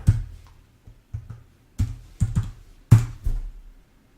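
Computer keyboard keys tapped in short bursts, about eight distinct clicks spaced irregularly over a few seconds, close and fairly quiet with no voices.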